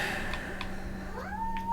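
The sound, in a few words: cat meowing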